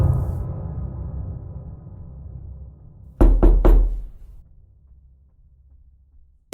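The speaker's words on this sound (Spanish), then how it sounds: "escuchas que alguien toca 3 veces la puerta" Three sharp knocks on a door in quick succession, loud and close, following a low rumbling background that fades to near silence afterward.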